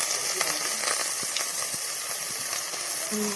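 Ginger garlic paste fries in a pan with turmeric and green chili for a taro leaf and small shrimp dish, giving a steady soft sizzle and hiss with light stirring scrapes.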